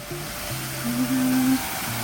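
Fountain water running: a steady, soft broadband splash and hiss at moderate distance over a brief stretch, with faint low tonal hum underneath and no talking.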